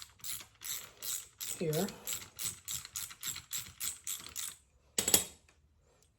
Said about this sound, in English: I'm using a 13th, 16th spark plug socket to get this nut off